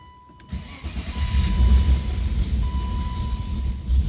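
A BMW E36 engine with a rotary valve setup and a high-lift, long-duration camshaft starts and settles into a loud, lumpy idle with an uneven, rumbling lope, heavy in the low end, no voices.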